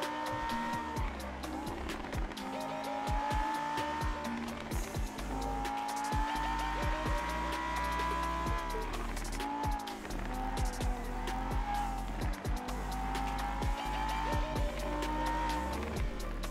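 Cars drift in GTA V on the NoPixel roleplay server, with steady, loud engine drone and screeching tire squeal that continues with shifting pitch throughout.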